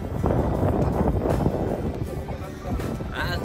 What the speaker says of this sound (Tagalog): Ang lakas ng hangin, ang lamig.